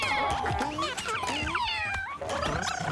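Cats meow in the video game Mewgenics, a dense run of overlapping cartoonish mews and chirps, loud and close, with a few brief clicks between calls.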